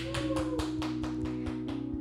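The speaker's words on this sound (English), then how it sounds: "Jesus says, clap your hands." A group clapping their hands in time during a worship session game, about eight evenly spaced claps over steady background music with sustained tones.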